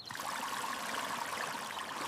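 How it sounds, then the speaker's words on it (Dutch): Water is poured steadily onto a garden plant, a continuous soft trickling and splashing that stays even for a couple of seconds, close and with no voices. "Geef de plant wat water."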